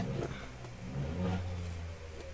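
A car pulls away nearby, its engine rising in a moderate rev before fading, heard against low background noise.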